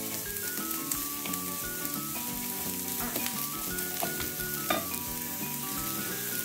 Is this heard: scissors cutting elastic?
no